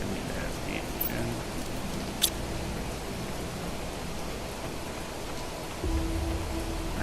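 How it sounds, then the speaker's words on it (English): Heavy rain falls in the Planet Crafter video game as a steady, dense hiss, with a couple of faint clicks and a low hum entering near the end. "It's raining heavy out there."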